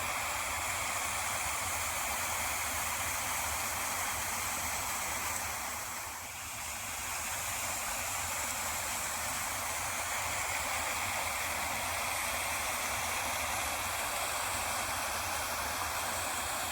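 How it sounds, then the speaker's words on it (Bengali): Mountain waterfall stream in the dense forest of Lingtham-Arubo, East Sikkim, rushing over rocks beneath a small concrete bridge: a steady, loud, broadband roar of flowing water that continues unbroken throughout, with no voices. "পাহাড় থেকে নেমে এসেছে ঝর্ণা, শোনা যাচ্ছে তার আওয়াজ।"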